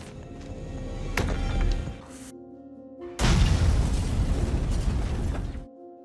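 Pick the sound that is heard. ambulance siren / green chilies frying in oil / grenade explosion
grenade explosion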